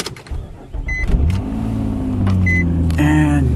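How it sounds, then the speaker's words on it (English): A car engine cranks and starts, then settles into a steady idle hum. Two short electronic chimes sound over a few clicks and rustles. "We're gonna turn on the vehicle,"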